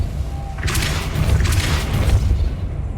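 Depulso spell cast in Hogwarts Legacy, a loud deep booming whoosh that swells and rolls for a couple of seconds before fading, with no talk over it.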